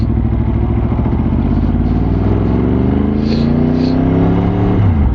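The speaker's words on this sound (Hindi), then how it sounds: "ये देखो बाइक स्टार्ट, हाफ सेल्फ," A 2009–2014 Yamaha R1 sportbike engine runs close by, loud and steady with a rising rev sweep partway through, then drops back toward idle.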